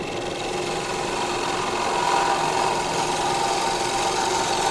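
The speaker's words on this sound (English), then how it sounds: "I'm able to take this gouge, take this cut all the way to the bottom." A woodturning gouge cuts into a cherry bowl blank spinning on a lathe, giving a steady, continuous rasping hiss over the machine's hum and a slight swell midway.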